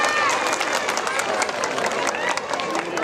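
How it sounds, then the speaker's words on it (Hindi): A crowd at a Ramlila gathering of the Kumaon Sabha applauds loudly and continuously, dense clapping from many hands with some cheering and background chatter, steady throughout. "बहुत जोरदार तालियां होनी चाहिए।"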